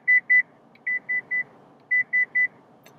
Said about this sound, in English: the notification is about rear cross traffic alert